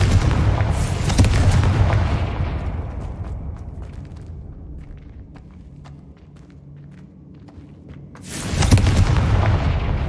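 Confringo fire spell explosion in the video game Hogwarts Legacy: a loud, booming blast opens the clip and decays into a quiet rumble, then a second heavy boom hits near the end.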